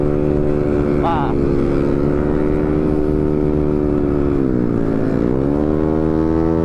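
A carbureted motorcycle engine runs steadily on a cold night ride in Lembang, a loud continuous drone with strong harmonics that dips in pitch briefly near the end, a short rising whine early on.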